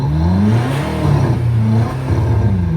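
A simulated car engine note played through a speaker mounted under a car, an aftermarket sound system costing about £1,000, revving and surging loudly in two swells with steady harmonic tones throughout.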